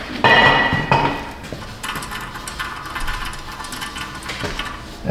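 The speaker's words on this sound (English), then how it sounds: "Extra noisy bearing over here." A rusty Toyota Prius wheel with an extra-noisy wheel bearing turns nearby, giving off metallic clinking and rattling over a rough grinding hum.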